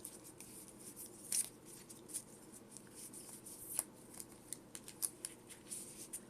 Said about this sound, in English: Then we shuffle, of course,